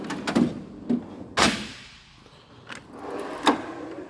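A Snap-on Epiq tool box drawer slides open with a few close metallic clunks and a short rolling rush, one sharper knock in the middle, no talk.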